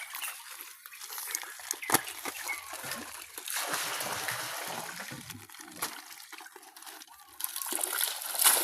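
Milkfish (bangus) swimming and splashing in an outdoor fishpond, with intermittent watery splashes and trickles close by, a sharp splash near the two-second mark, and faint background rooster sounds.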